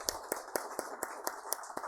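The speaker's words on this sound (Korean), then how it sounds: "저도 박수 한번 쳐드리겠습니다" A priest clapping his hands during Mass, eight evenly spaced sharp claps in a steady rhythm, fairly faint and alone.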